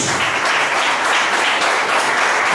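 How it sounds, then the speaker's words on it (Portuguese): A church congregation applauds loudly, a dense, continuous wash of many hands clapping at once, unbroken for the whole stretch. "Os aplaudir o Espírito Santo"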